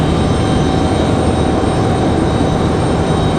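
A Delta jet departs Raleigh-Durham airport with a loud, steady engine roar that holds without a break, a faint whine running through it.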